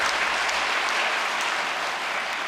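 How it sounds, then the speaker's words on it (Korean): Loud, even applause from a large church congregation at a New Year prayer service, filling the whole moment as a continuous wash of clapping. "박수 한번 부탁드립니다."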